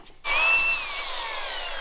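A power drill whirs up suddenly and spins steadily at high pitch, slowing slightly as it bites into a Harley motorcycle part to be tapped for a cotter pin, close and loud.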